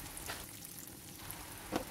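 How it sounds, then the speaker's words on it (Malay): Boiled cassava frying in hot oil, a steady crackling sizzle with occasional louder pops, close by. "Teruslah goreng sehingga garing."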